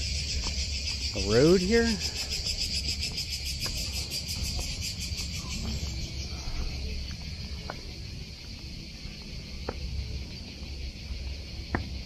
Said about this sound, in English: I think that's cicadas. Cicadas or crickets, I don't know, but they're everywhere.